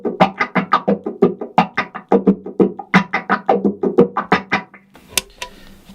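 An electric guitar through a wah pedal plays a rapid run of plucked notes with a sweeping, vowel-like filtered tone, then stops and rings out briefly.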